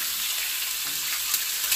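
Egg and dried shrimp hit a hot frying pan for pork nasi goreng, giving a loud, steady sizzle with a few soft stirring scrapes and no voices.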